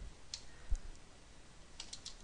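Someone types on a computer keyboard in a command prompt, giving a few faint, sparse key clicks in a quiet room.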